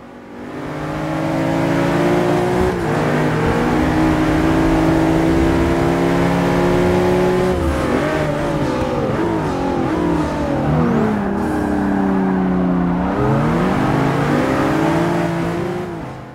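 A McLaren 650S Coupe accelerating hard at speed, its engine climbing through rising revs with several gear changes heard as drops in pitch before pulling up again, loud and close throughout.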